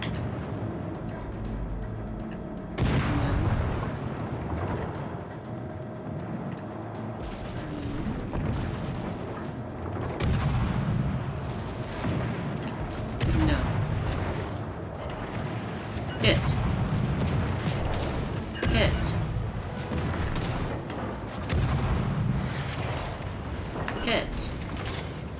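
Naval guns firing from warships in the World of Warships Legends game, heavy booming salvos recurring every few seconds over a rumbling battle background, loud and close.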